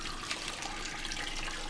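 Tap water running steadily into jars, a close, continuous splashing rush without voices.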